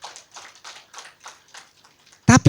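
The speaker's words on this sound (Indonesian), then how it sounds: "Tepuk tangan buat Tuhan kita." Church congregation clapping their hands for God during a worship service, a steady run of fairly quiet, even claps, followed at the end by a brief loud burst of voice.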